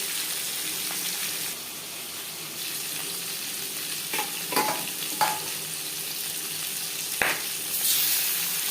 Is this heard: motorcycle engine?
no